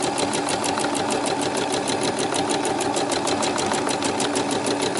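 Machine stitching while shading in a highland cow design on a bag, a steady fast mechanical whirr with regular needle ticks running continuously and close.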